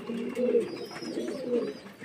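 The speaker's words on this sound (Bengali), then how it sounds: "দেখুন বন্ধুরা পায়রাগুলো কেমন মন দিয়ে খাচ্ছে" Pigeons feed on grain and paddy, giving soft low cooing calls in two close, gentle bursts with faint background sound.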